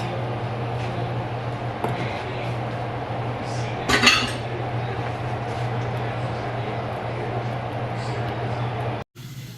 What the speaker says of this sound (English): so I'm just gonna whisk that on in